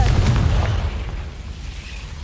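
A Confringo explosion spell cast in Hogwarts Legacy bursts with a loud, deep boom at the start, then a rumbling decay fades away over about two seconds.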